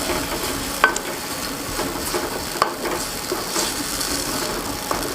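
Two small, finely chopped onions fry and brown in a pan, giving a continuous close sizzle broken by occasional light clicks from stirring.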